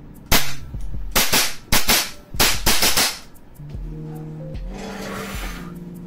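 An EMG TTI Sand Viper airsoft rifle fires in a blowback test, giving several sharp, loud shots, some singly and some in quick bursts. A steady tonal background hum follows, with no talking.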